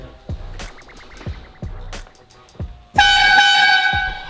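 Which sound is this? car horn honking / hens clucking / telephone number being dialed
car horn honking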